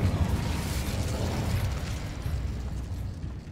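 A burst of fire from the Incendio spell in Hogwarts Legacy, a sustained loud whooshing roar with crackling low rumble that holds steady for several seconds and then slowly eases off.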